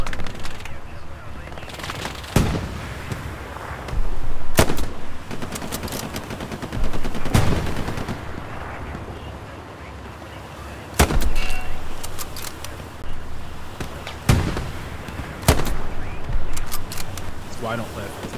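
Gunfire in the World War II shooter Hell Let Loose: sharp single rifle cracks and distant rattling bursts ring out sporadically over constant battlefield ambience, with players talking throughout.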